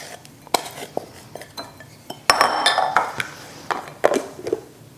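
Food being packed into a glass Pyrex dish, heard as close clinks and knocks of a utensil on glass, scattered taps first and then a busier cluster of clatter and scraping, with no one talking.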